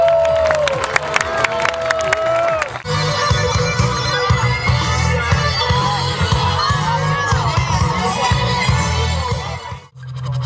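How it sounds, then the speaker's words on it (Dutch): A lively outdoor crowd at a King's Day pond show cheers and whoops with applause, children shouting amid loud music-like tonal sounds, continuous and energetic throughout. "geef ze een hartelijk applaus"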